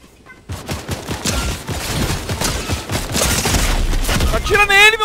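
Rapid bursts of automatic gunfire from a Fortnite match fill the scene, loud and close, with dense overlapping shots and a brief electronic tone near the end, while players talk over the action.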